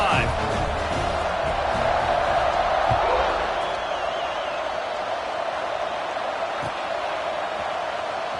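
Football stadium crowd cheering during a kickoff, a loud, dense, continuous roar filling the whole clip, with a commentator talking over it.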